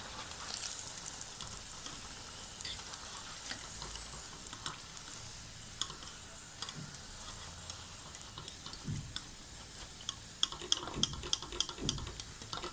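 Okra fries in a pan for a bhindi masala, a continuous close sizzle with dense fine crackling and popping that grows a little sharper toward the end, with no talking.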